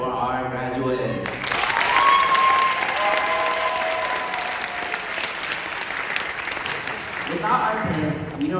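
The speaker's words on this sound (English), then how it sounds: "let's give a round of applause to the parents who are here tonight for our graduates" A graduation-night audience breaks into a sustained round of applause for the parents, dense clapping that rises sharply after a brief spoken lead-in and continues for several seconds, with a voice returning near the end.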